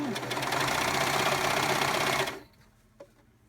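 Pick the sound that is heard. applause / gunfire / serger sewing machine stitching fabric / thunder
serger sewing machine stitching fabric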